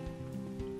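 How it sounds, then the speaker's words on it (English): Steady rain hisses and patters in modded Minecraft 1.12, a soft continuous wash with faint droplet ticks and no voices. "But it's raining here."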